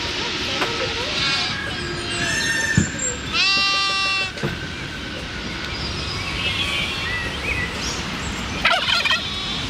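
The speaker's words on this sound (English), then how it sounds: "Everyone loves a goat." Goat bleating while travelling in Europe: a couple of loud wavering bleats close by, with other animal calls and a rumbling background, no talking.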